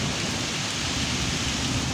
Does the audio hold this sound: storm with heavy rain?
yes